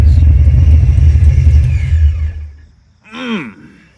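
A Procharger-supercharged Foxbody car engine shuts off: a loud low rumble with a whining supercharger spools down and fades over two seconds, followed by a short descending whistle-like groan.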